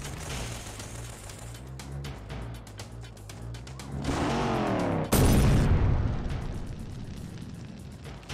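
Explosion in the video game Syphon Filter 2, a loud roaring blast that swells and then hits a sharp peak near the middle, over continuous rumbling game noise and rhythmic music, with no speech.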